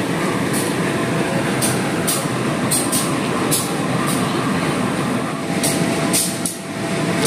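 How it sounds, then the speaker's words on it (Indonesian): CC201 diesel locomotive at the Jember locomotive depot, a steady loud rumbling drone throughout with sharp metallic clanks and squeals, no talking. "Itu di situ ada lokomotif Vintech CC201-9201 milik Depo Lokomotif Jember yang rencananya akan berdinas KA Pandanwangi."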